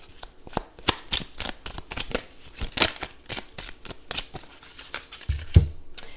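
A deck of tarot cards riffled and slid as cards are shuffled and drawn, a steady run of crisp papery flicks and snaps close by, with one soft thump near the end and no talking.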